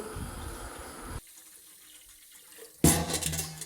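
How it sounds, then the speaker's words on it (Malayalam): Water splashes from a tap into an idli steamer pot in a home kitchen. A steady rushing pour breaks off and sits quiet for a moment, then comes back in a louder gush. "അങ്ങനെ ഇഡ്ഡലി കുട്ടകത്തിലേക്ക് വെള്ളമൊക്കെ എടുത്തു."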